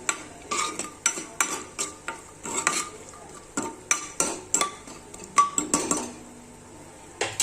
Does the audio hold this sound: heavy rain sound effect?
no